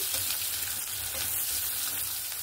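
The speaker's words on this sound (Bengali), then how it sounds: "এখানে আমার পেঁয়াজ, টমেটো, কাঁচা লঙ্কা ভালো করে ভাজা হয়ে গেছে" Onions, tomatoes and green chillies frying in oil in a pan, a steady close hiss and crackle of sizzling with light stirring, no talk.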